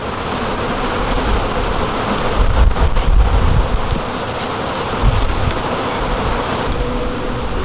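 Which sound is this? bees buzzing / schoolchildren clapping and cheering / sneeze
bees buzzing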